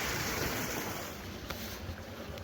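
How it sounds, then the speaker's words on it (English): A creek behind a small dam flows strongly in winter with heavy overflow, making a continuous broad rushing wash with some wind buffeting on the microphone and no talk. "the creek's still going really well. Dam's holding up. Lots of flow, lots of overflow."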